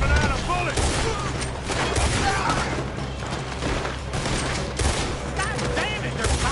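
A shootout in the western game Red Dead Redemption 2 sets off dense, overlapping gunshots and rattling volleys from several shooters, loud and continuous throughout.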